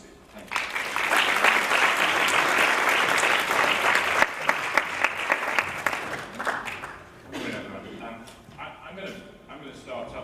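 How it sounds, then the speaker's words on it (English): An audience at a talk breaks into sustained applause that builds quickly, holds loud and full, then thins into scattered claps before dying away, with some voices near the end. "a round of applause for Paul Giannasi"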